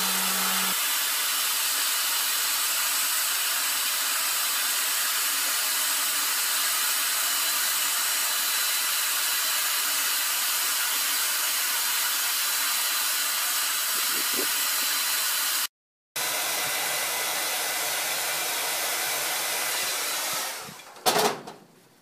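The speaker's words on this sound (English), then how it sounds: "now I'm just letting the charcoals heat up with just the blow dryer" A blow dryer pushes air into charcoal for heating a knife blade at a forge, a loud steady roaring whoosh that runs continuously, briefly cuts out near the end, then resumes before a clunk.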